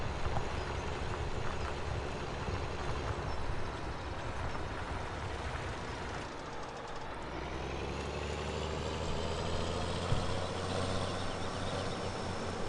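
A tractor engine in a farming video game runs continuously, a steady rumbling drone that shifts pitch partway through as it changes speed, with no talk over it.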